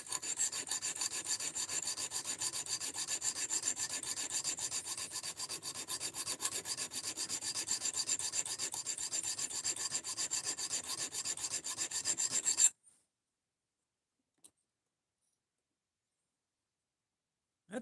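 A knife blade is ground on a sharpener at a steady abrasive rasp, loud and continuous for about twelve seconds with no talk, then stopping abruptly into near silence with a faint tap later.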